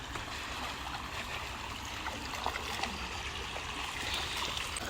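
Flowing water from an outdoor stream, a steady broadband rush and trickle that stays constant and fairly close throughout, with no voices.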